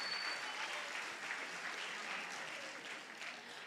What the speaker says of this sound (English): Let's give her even a louder round of applause.